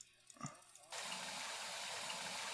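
A kitchen tap in the driving game My Summer Car opens after a faint clunk, and water runs from it in a steady, even, close rush until the end.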